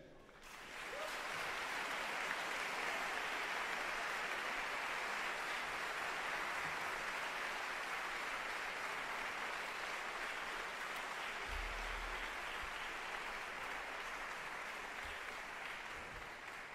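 Loud, sustained applause from a concert audience welcoming a Hungarian youth wind band at a band competition in Valencia, Spain; dense steady clapping fills the whole stretch without pause.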